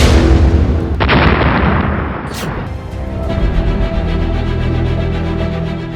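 A powerful blast from drone bombing and rocket launcher fire in an army assault in Anantnag hits hard early, then trails off into a long, low rumble and lingering noise.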